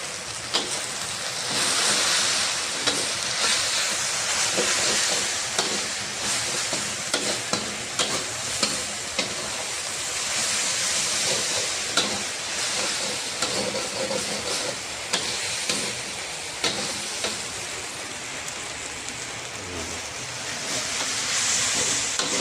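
Tofu and yellow noodle filling with ground pepper and fish seasoning is stirred in a hot frying pan, a continuous dense sizzle broken by regular scraping strokes of the spatula, close and loud with no talk.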